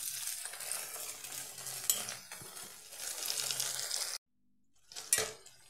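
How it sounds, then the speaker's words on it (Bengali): Spice paste with asafoetida and flour batter sizzles and is stirred in a pan, crackling frying with scraping, a brief pause, then a short burst of sizzle and clatter. "এই মশলাটা ঢেলে আমি এবার কষিয়ে নেব।"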